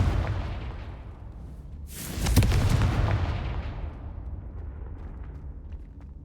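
A Confringo fire spell blast from Hogwarts Legacy goes off as a sudden booming explosion that fades into a long rumbling tail, heard alone.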